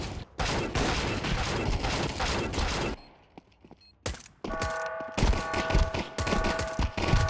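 Rapid gunfire in a first-person video game shooter, bursts of loud sustained shots with a brief lull in the middle before firing resumes alongside mechanical weapon sounds.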